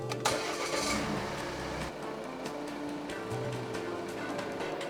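A Volvo car engine cranks and fires near the start, then settles into a steady, moderately quiet idle heard from close by in a workshop setting, with a faint clunk partway through.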